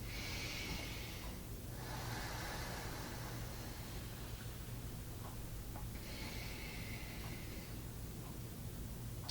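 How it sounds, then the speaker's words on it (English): Deep breathing during a gentle yoga session, two long drawn-out breaths, each a soft airy rush lasting a couple of seconds, heard over a steady background hiss and hum, close but quiet, with no talking. "Take deep breaths."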